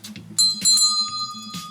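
A bell rung in a classroom to start the lesson, sounding as two or three bright, sustained metallic rings with a long decaying tone, accompanied by some faint background noise.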